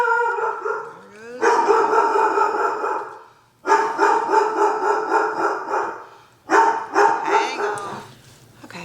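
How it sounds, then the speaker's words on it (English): Dogs barking and howling near a home kitchen, loud close repeated yelping bursts in three long runs separated by brief pauses, with no talk over them. "The outside dog was bark. It causes my inside dog to go crazy."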